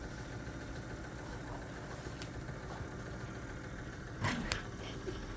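A 1946 Singer sewing machine runs steadily, a low continuous motor hum close by, with a couple of brief clicks near the end.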